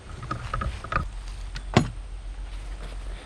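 Hand file strokes on a chainsaw chain tooth out in the field, a few short rasping scrapes with one sharper scrape near the middle, close and fairly quiet.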